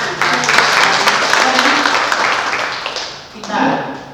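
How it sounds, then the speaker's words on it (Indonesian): Applause from participants at a young entrepreneurs' training session in Karangasem, a short dense round of clapping that holds steady, dips briefly and swells again near the end, with a voice over it. "Oke, terima kasih, tepuk tangan."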